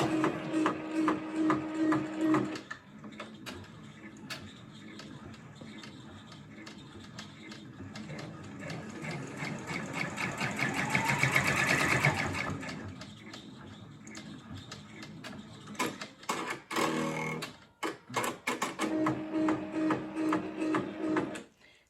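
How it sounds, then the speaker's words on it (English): An embroidery machine stitches over ribbon with a fast, steady mechanical ticking and whirring that swells and eases, broken by brief pauses and shifts in pace. "we'll go ahead and let it embroider right over top of it"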